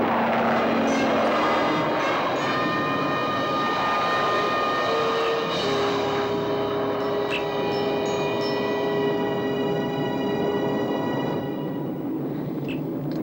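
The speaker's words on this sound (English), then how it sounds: "All right, Irgo, prepare for takeoff" Science-fiction spacecraft taking off in a television episode, a loud, sustained roar with layered rising and falling tonal whines, strong throughout with no voices over it.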